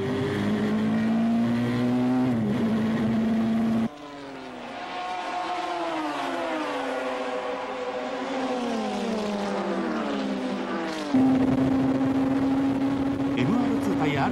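GT300 race cars, a Toyota MR2 and a Mazda RX-7, roar along the straight at Fuji during the 1996 All Japan GT Championship, with sustained loud engine notes rising and falling in pitch as they pass, under steady talk.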